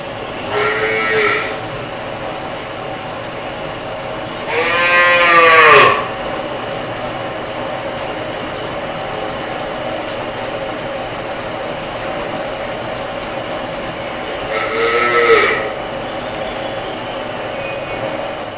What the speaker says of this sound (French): c'est l'étable avec les vaches. Donc les vaches sont là.